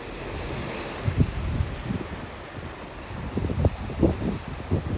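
Ocean waves slapping against a small round basket boat, a steady wash of surf with irregular low thumps and splashes, overlaid by constant wind noise buffeting the microphone.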